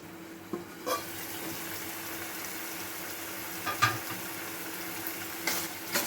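Masala spice paste frying in a covered pan, a steady low sizzle running throughout with a few soft knocks of the lid or spoon, quiet and without talk.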